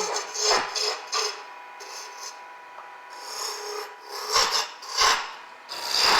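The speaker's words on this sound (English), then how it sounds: "You can see that in the lathe it just feels like this just cuts like butter, but this is very hard wood." A lathe tool shapes a hardwood baby rattle, making a close, raspy scraping in uneven pulses as the cutter rubs across the spinning wood. Nobody speaks.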